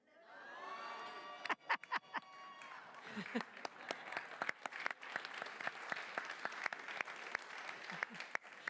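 An overflow crowd in a lobby at a State of the City address cheers and claps, starting with whoops and shouts before the applause builds into a loud, steady roar with sharp individual claps standing out.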